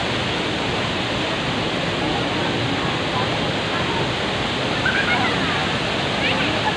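Steady, dense roar of the Bolinao Falls waterfall, a broad continuous rush of falling water that stays loud and unbroken throughout, with faint voices barely showing beneath it.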